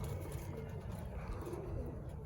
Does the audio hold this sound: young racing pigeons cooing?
yes